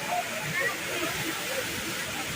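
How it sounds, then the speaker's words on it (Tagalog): Hinulugang Taktak waterfall: a continuous broadband rush of falling water, fairly close and steady, with faint voices blending into the roar. "Nahuhulog na mga tubig o waterfalls."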